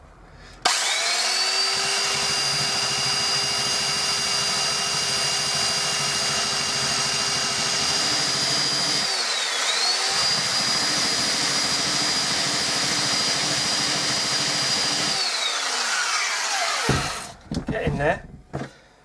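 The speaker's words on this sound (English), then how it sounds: "I'm going to carve into that with the sander." A power sander carving into wood for a bird table perch, a loud, steady high whine that dips in pitch as it bites, with two short breaks before it winds down and stops.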